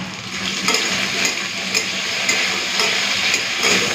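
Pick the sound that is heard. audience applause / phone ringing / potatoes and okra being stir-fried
potatoes and okra being stir-fried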